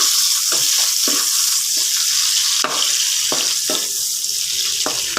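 Onion and garlic sauté in olive oil for adobong kangkong, a steady bright sizzle with occasional scraping stirs, close and loud, with no talk.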